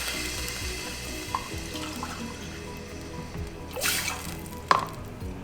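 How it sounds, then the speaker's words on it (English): Water pours and splashes into a pan with a steady liquid rush, a few clinks and a brief louder gush near the end. "to add a cup full of water"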